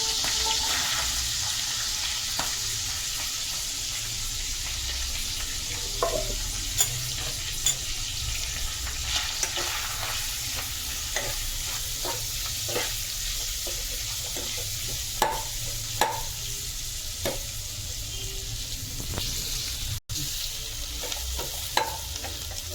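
Chopped onions frying in oil for a home-style chicken curry, a continuous close sizzle with scattered light clicks and stirring scrapes throughout, steady and unhurried, with no talking.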